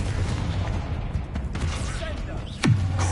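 The Confringo explosive spell fired in Hogwarts Legacy, a sharp whooshing burst that lands near the end over a steady bed of game noise and low rumble.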